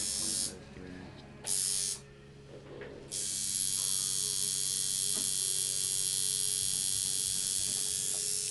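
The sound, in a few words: tattoo machine needle buzzing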